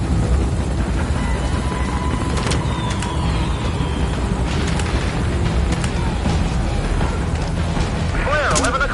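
Helicopter in Metal Gear Solid 5 Ground Zeroes, a steady loud rotor drone under dense battle noise with scattered bursts and booms throughout.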